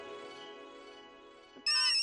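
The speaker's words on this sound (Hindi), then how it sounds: "अरे फिर से फोन।" An electronic phone ringtone plays a steady melodic tune nearby, then jumps to a louder, brighter burst at the end.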